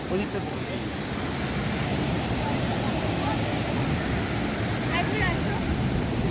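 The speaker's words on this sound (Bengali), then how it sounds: "দেখুন জলের ধারা হ্যাঁ বয়ে চলেছে" A stream of water flows at Kalyaneshwari Temple with a constant loud rushing wash, and faint voices are mixed in.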